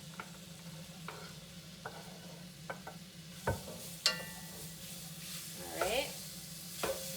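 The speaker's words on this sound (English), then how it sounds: "we're just gonna add in our veggies that I've already got all chopped up and all diced up here. And we're gonna just saute them for a moment." Chopped, diced vegetables sautéing in a pan for a mulligatawny soup, with a low steady sizzle and occasional stirring scrapes and clinks throughout; a voice speaks briefly near the start.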